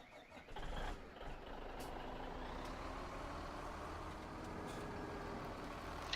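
A truck in Farming Simulator 17 reverses with its engine droning steadily and a backup beeper sounding over it, continuous and moderately loud, with no talking.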